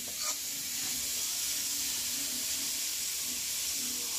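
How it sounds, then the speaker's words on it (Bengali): Bharta ingredients frying in a pan over a village kitchen fire give a steady, soft sizzle with a faint hiss throughout, and no voices. "এই যে ভর্তাটা ভেজে নেওয়া হচ্ছে।"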